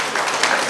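Applause rises from a residents' association audience at a New Year celebration meeting, a brief, even wash of many clapping hands heard at moderate distance.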